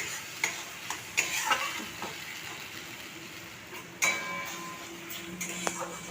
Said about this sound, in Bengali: দিয়ে মশলাটাকে একটু কষিয়ে নিই।